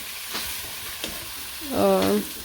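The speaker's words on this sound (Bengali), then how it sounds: "এই প্রথমে পেঁয়াজ ভেজে নিচ্ছে" Onions fry in a pan in a village kitchen, with a steady low sizzle, a few clinks of stirring, and a short tonal sound near the end.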